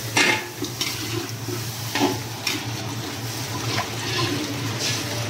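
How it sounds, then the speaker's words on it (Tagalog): Water is poured into a pot of sautéed tomato, ginger and onion for milkfish sinigang, a close, steady hissing splash with light clinks of the pot. "lagyan na natin ng tubig"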